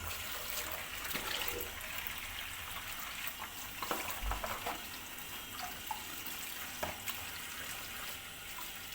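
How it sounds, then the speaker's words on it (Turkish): Brined grape leaves being rinsed under running water, a steady broadband tap flow with faint splashes and handling noises throughout, close and continuous, with no talk. "Şöyle bakın birkaç kere böyle yıkadım."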